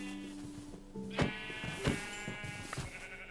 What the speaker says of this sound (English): A pink sheep?